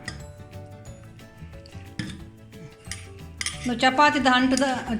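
A spoon clinks and scrapes inside a metal vessel as ingredients for a Mangalorean postpartum medicine are mixed, with irregular knocks first and then a busier run of rattling metallic clatter.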